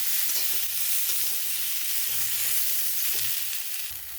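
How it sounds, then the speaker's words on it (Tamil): Green chillies sauté in a pan for a Tamil pirandai thuvaiyal, with a steady bright sizzle and occasional soft scrapes of stirring, close and continuous. "பச்சை மிளகாவும் நல்லா பச்சை கலர் மாதிரி நல்லா வதங்கணும் அது வரைக்கும் நல்லா வதக்கணும்"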